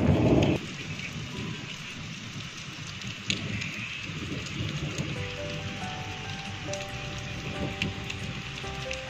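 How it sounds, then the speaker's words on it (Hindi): Heavy, steady rain pours over a village after two days of downpour, with a loud thunder crack at the start and then a dense, continuous patter close by, without any voices. "ये अभी बारिश दो दिन से लगातार हो रही है गाँव में"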